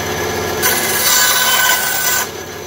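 A short burst of sawing as the end of a wooden Native American flute is cut off, a close, harsh rasping lasting under two seconds between quieter moments.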